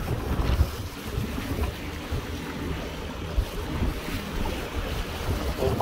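Constant wash of wind and surging large waves around a moving boat on rough water between Maliuc and Periprava, with hull thumps and splashes, no voices.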